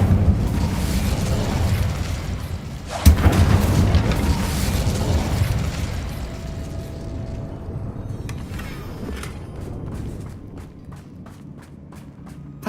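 A loud, booming Incendio fire spell blast goes off in a Harry Potter video game, followed by a rumbling roar that fades, with footsteps and light movement afterward.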